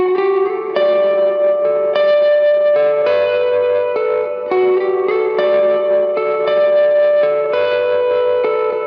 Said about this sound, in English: There is clearly a reverb